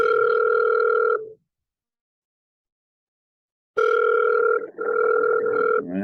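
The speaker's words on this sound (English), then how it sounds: "All right, phone's ringing." Two loud electronic telephone rings with a steady warbling tone, separated by a few seconds of silence, close and clear.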